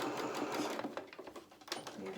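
A sewing machine stitches along a shirt hem in quick bursts of rapid needle clatter, pausing briefly, with a person talking softly over it.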